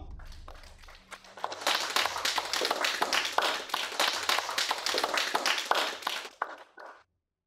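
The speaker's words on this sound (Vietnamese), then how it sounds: "chúng ta dành một tràng pháo tay nhiệt liệt chúc mừng công ty Lân Lý trúng thầu" Enthusiastic applause from a gathered group congratulating a company on winning a tender, a burst of dense, close clapping that starts abruptly, holds steady for several seconds, then cuts off.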